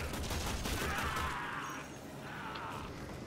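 Sustained gunfire from the weak starting gun in the Warframe video game, a dense rattling burst that runs loud through the whole stretch and eases slightly near the end.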